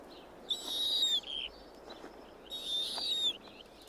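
Snowy owls calling in the Arctic tundra during the breeding season, with two drawn-out high, screechy calls separated by a short pause, moderately near over a soft background hiss.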